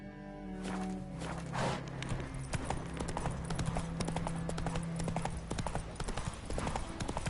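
Horse hooves clip-clopping in the video game Witcher 3, a rapid, steady run of close, crisp hoof strikes with a brief snort near the start.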